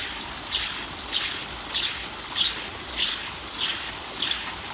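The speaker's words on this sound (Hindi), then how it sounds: "देखो अब ये मोटर चल रही है, इस पर पटा चढ़ रही है दोस्तों" Water pours from a running motor pump in a village, a steady rushing hiss with soft surges repeating roughly every half second.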